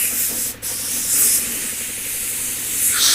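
Paint spray gun with a 1.4 or 1.3 tip shooting sealer onto a car panel, a loud, close, steady hiss with one brief break before spraying resumes.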